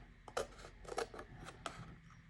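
Scissors trimming glitter paper for a handmade card, giving several quiet, crisp snips at an uneven pace, close up and faint, with no talking.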